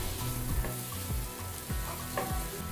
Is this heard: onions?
yes